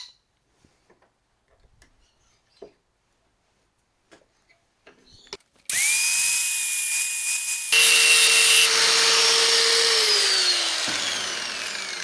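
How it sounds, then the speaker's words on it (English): A cut-off wheel grinds a part of a Stihl 009L chainsaw. Faint ticks come first, then a loud, steady high whine starts suddenly and holds for several seconds before tapering off. "That's only a cut-off wheel, but I don't need to take much off"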